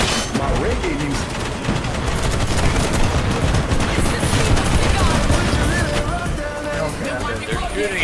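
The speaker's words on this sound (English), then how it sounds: "They're shooting at me." Dense, sustained gunfire from the shooter game BattleBit, with overlapping automatic bursts and booms rolling continuously and loudly throughout, a voice talking over the din.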